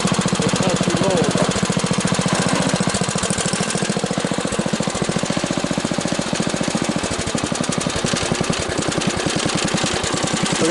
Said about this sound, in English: But I'm going to turn this on. I should be able to yank it. It should start right up.